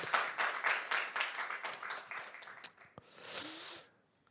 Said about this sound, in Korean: 우리 큰 박수로 한번 좀 격려했으면 좋겠습니다